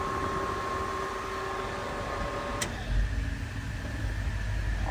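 The cabin air blower of a 1977 Ford F-100 runs on high with a steady, faint whooshing hum, and a low rumble rises partway through.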